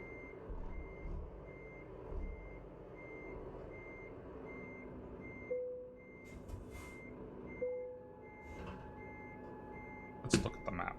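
A truck's reversing alarm beeps faintly and steadily under engine rumble in the driving game Euro Truck Simulator 2, with a brief air brake hiss near the end.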